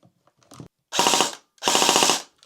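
A Cyma CM028 airsoft AK electric gun, its gearbox powered by a 9.9-volt lithium ferrite battery, fires two close, loud bursts of rapid mechanical clatter, each about half a second long, after some soft handling clicks.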